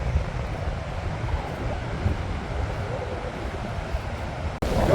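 Steady roaring wind rushes over open water, a continuous broadband noise that cuts off abruptly near the end.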